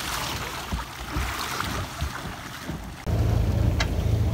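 A sailing dinghy on water near a bay, with gusty wind buffeting the microphone and water noise around the hull, then a sudden louder steady rush in the last second.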